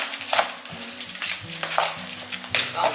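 A spoon scrapes and stirs through a thick pumpkin protein snack mixture with chocolate chips in a bowl, with repeated close scraping strokes and light clinks against the bowl.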